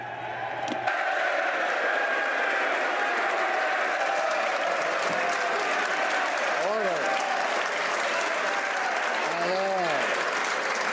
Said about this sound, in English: I would encourage all members to save their applause for later